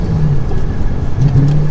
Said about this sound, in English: It kind of sounds like a spaceship a little bit when you're accelerating because you can hear a little bit of that supercharger whine